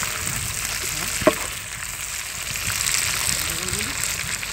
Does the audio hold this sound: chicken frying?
yes